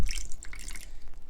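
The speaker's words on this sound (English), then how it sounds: "Pour some water." Water is poured into a mix while making snow and color-changing slime, giving a brief close trickling splash after a low thump.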